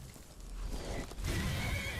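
Horses in the video game Skyrim neigh loudly amid a clatter of hooves, a rough whinny swelling over steady game noise for about two seconds.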